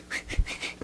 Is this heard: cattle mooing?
no